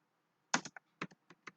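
Brief bout of typing on a computer keyboard, a handful of crisp, close key taps in an irregular rhythm against a quiet room.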